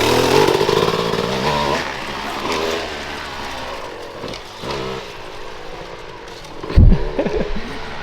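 Dirt bike engine on a medium power setting revving in a rough, fluctuating buzz, fairly close, with rising and falling pitch and a sharp thump near the end.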